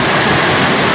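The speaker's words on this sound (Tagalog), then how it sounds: "As you can hear the rain" Heavy rain pouring outside during a storm, a dense, loud, steady hiss of water with no breaks and no voices.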